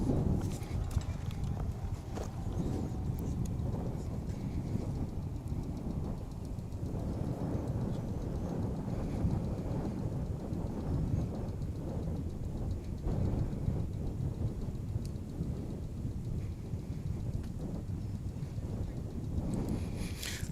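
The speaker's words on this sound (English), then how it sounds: "Oof, that wind is blustery." Blustery wind blowing across the microphone at DFW International Airport, a constant loud rumbling buffet with irregular gusty thumps throughout, and faint talking now and then.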